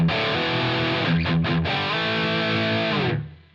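Distorted electric guitar played through a Line 6 Helix preset with only the dry level passing, a thick sustained chord with a short choppy stutter midway, then ringing on and fading out at the end.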